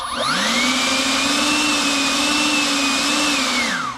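A steady, loud motorized whine from a Kobalt 40V Max cordless leaf blower, running up to a higher pitch in turbo mode and holding there before winding down near the end.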